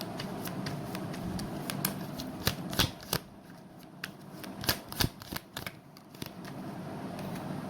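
Tarot cards are shuffled and drawn close up for a reading, a steady riffle of soft papery flicks punctuated by several sharper snaps and slaps, with no voices.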